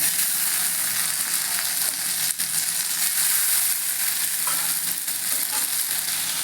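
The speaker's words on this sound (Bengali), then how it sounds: "এবার আমি দিয়ে দেবো টমাটোটা" Tomatoes going into fried onions in a hot pan for a pomfret fish curry, a loud, steady, dense sizzle with one brief clack partway through.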